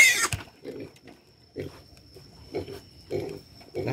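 A pig grunts and oinks during castration, giving a steady series of short, moderately loud grunts about every half second over a faint steady hum, with a sharp squeal at the very start.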